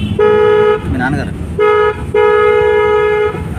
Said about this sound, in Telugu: మళ్ళీ హారన్